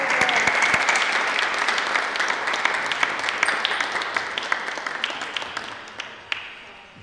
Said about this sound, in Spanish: Aplaudimos ahora, Orietta.